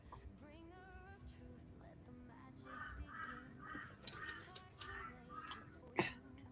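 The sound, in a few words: crows cawing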